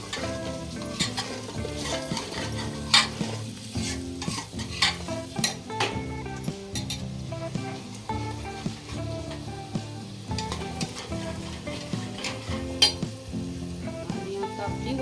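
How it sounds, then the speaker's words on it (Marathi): Masala roasting in a pan on a full gas flame, a continuous crackling sizzle broken by frequent sharp stirring scrapes of a spoon against the metal, close and fairly loud with no talk. "दोन मिनिटासाठी चांगली फुल गॅसवर भाजून घेते मी"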